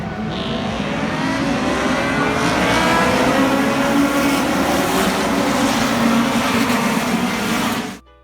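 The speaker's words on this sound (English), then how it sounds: "This that you are about to see is the race start of the CNA category, Tocancipá, Colombia." A pack of CNA category race cars roars off the start at Tocancipá, Colombia, with many engines revving and accelerating together in a loud, continuous blare that fades and cuts off abruptly at the end.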